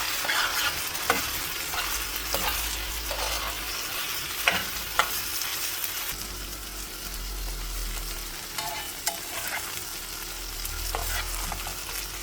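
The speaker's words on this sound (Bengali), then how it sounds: "তার সাথে লেগে লেগে এটা ভাজতে ভাজতে ডিমটা হয়ে যাবে।" Bottle gourd peel fries with egg in a pan, a steady close sizzle with occasional scraping stirs of a spatula throughout, no talk.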